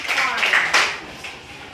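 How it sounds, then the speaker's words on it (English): A classroom gives a brief round of applause for a student group, a short burst of clapping that stays at moderate volume and tapers off within a couple of seconds. "A big round of applause for group 4."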